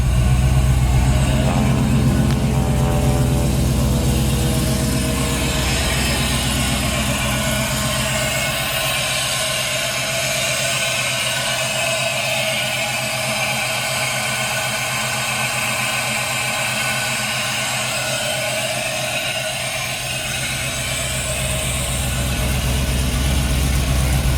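An LS-swapped 1957 Chevy Bel Air hardtop engine runs loud and close, a deep rumbling rev early on settling into a steady, throbbing idle before rising again at the end.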